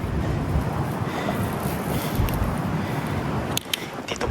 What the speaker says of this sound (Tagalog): Wala po nangingisda ngayon dahil malakas po yung hangin.